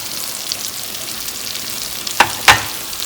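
Onion and tomato masala fries in oil in a pan with a steady soft sizzle, broken near the end by two sharp clinks.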